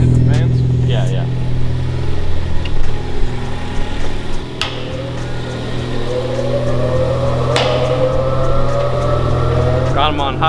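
A car engine runs steadily on a dyno with its stock intake, a constant low drone holding through the whole stretch with fans running, a few faint voices and clatters over the top.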